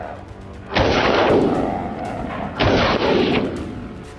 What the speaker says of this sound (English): I fired rapidly, bullets chasing their frantic path. Boom! Boom!